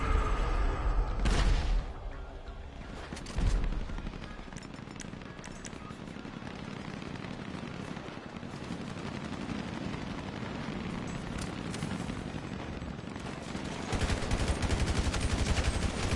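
Gunfire in the video game Full Throttle, a dense rattling barrage with sharp loud blasts near the start and end, heavy and continuous throughout.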